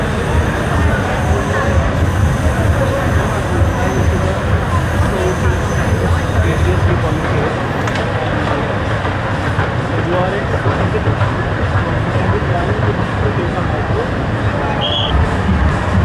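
A BTS Skytrain at Siam station in Bangkok during Songkran, heard as a steady loud rumble of rail traffic and city noise under constant crowd babble and someone talking close by.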